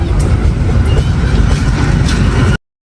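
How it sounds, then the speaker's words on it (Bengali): A train rolls into a station platform with a loud, continuous low rumble and metallic rattling, close and steady, ending abruptly. "তারপর অনেকক্ষণ অপেক্ষা করার পরে আমাদের ট্রেনটি চলে আসে"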